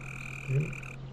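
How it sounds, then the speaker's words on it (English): A single short frog croak from a video game, faint and brief over steady electronic background hum. "heard a frog croak."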